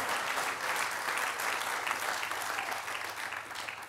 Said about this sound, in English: You can clap as much as you want today.